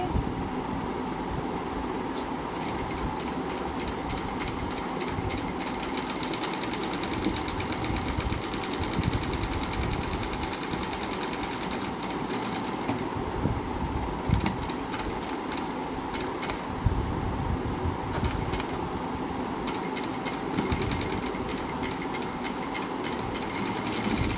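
An electric sewing machine runs steadily, stitching hooks onto a fabric edge, with a continuous fast mechanical whir and rapid needle ticking close by and no talk.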